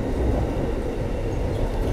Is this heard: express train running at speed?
yes